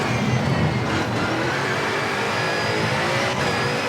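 Rally car engine revving hard and continuously in V-Rally 4 on a Niger desert stage, a loud, steady drone that rises and holds without any talk.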